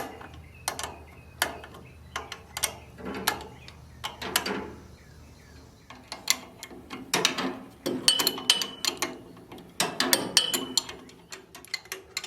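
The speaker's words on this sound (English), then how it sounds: "I think I'll tighten these down first" A ratchet tightens carburetor bolts on a John Deere Model A tractor, giving bursts of quick, close metallic clicks with short pauses between strokes and a faint low hum underneath.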